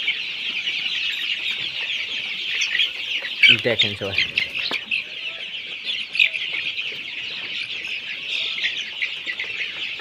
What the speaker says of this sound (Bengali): মুরগিগুলো পানি খাওয়ার জন্য ব্যস্ততা দেখেন কীরকম করতেছে পানি খাওয়ার জন্য মুরগিগুলো